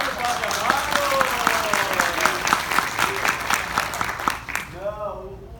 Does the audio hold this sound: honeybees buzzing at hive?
no